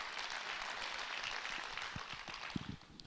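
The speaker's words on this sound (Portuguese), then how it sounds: "aplauda o Senhor aí no seu lugar o mais forte que você puder" A church congregation applauds continuously, a dense wash of many hands clapping at moderate volume, with a few sharper claps standing out near the end.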